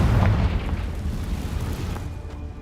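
Confringo fire-blast spell from Hogwarts Legacy, a loud booming explosion at the start that decays into a rumbling tail, with no voices.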